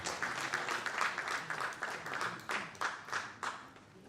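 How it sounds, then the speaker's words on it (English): An audience at an agricultural conference on climate change and irrigation claps in a moderate, fairly quiet burst, with individual claps audible and pulsing through the applause. "Can we clap our hands?"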